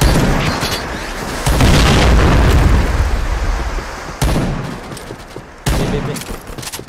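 Grenade blasts and gunfire in the shooter game Point Blank: heavy, booming explosions and crackling shots roll continuously at close range, with sudden fresh impacts partway through and near the end, and no clear voices.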